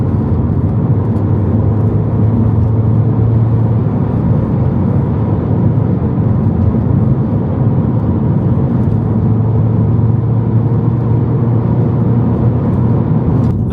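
Mini Cooper S driving on the road, its engine droning steadily and loud with continuous road and tyre rumble throughout, no talking.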